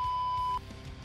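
A phone SMS notification gives one steady electronic beep lasting about half a second, clear and close, then cuts off into quiet room ambience; no one talks.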